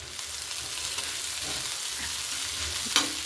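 Chopped coriander sizzles in hot oil, a steady, close hiss of frying with soft stirring scrapes and a brief louder clink near the end, no voices.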